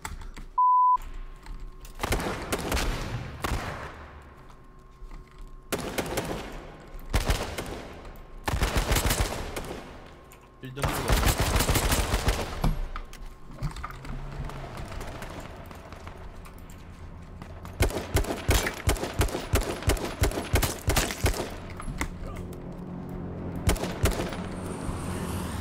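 Gunfire in H1Z1 during a doubles match: scattered loud single shots and short bursts, a rapid string of shots toward the end, with a brief electronic beep near the start.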